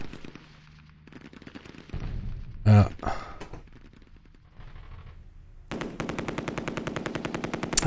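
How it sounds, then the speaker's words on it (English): Medium machine guns fire in a WWII US Airborne campaign video game, in short loud bursts and then a long rapid stutter, with a heavy blast in the middle. "2 medium machine guns sitting in a single building, firing across all the map."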